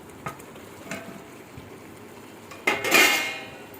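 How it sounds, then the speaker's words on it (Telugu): Eggs and fried rice for egg biryani being stirred together in a pot, with a few scattered light clinks before a louder burst of scraping and clattering near the end; no voices. "ఎగ్స్ అంతా వేసుకుని ఒకసారి అటు ఇటు ఫుల్గా కలుపుకోండి."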